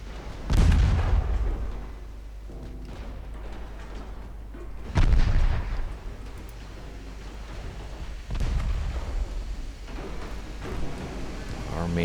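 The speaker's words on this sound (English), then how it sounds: "Our main guns turned around yet? There we go, pretty big volley." Battleship main guns fire volleys in Ultimate Admiral Dreadnoughts as three heavy, booming salvos several seconds apart, each rolling into a rumbling tail over a steady low drone, with someone talking throughout.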